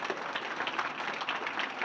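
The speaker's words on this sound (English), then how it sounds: "Let's give a big round of applause for Austen." Audience applause for a Murray State football Hall of Fame inductee, a steady wash of many hands clapping at moderate distance, continuous and fairly faint throughout.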